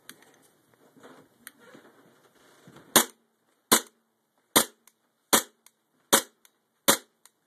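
An M&P gas blowback airsoft pistol fires six sharp single shots, spaced about a second apart, loud and close, after a few seconds of faint handling noise.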